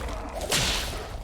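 Incendio fire spell cast in Hogwarts Legacy, a single quick whooshing burst that flares up and fades within about a second.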